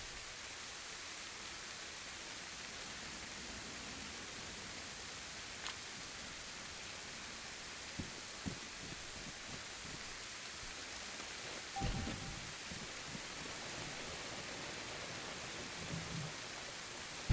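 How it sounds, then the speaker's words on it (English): Steady rain pours down in the DayZ game world, a dense even hiss throughout with a few soft thuds and bumps near the middle. "raining its arse off out here"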